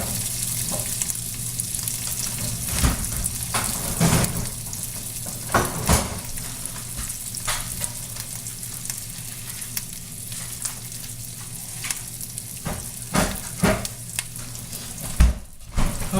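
Capers sizzle and fry in butter in a frying pan, a steady close crackle with sharper pops and spits scattered throughout, no talk over it.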